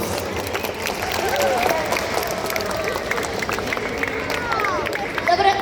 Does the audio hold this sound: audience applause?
yes